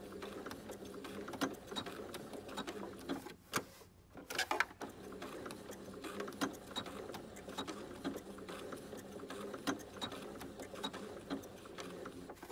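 A sewing machine stitches a snowman quilt, its quiet rapid mechanical whir running steadily with small clicks and a short pause midway, heard close and soft with no talking.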